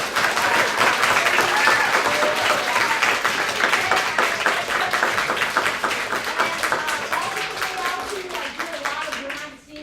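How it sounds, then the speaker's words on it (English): Loud, sustained crowd applause and clapping that stays dense for several seconds and then slowly tapers, with voices mixed in beneath. "Can we give a big round of applause to the biggest man here?"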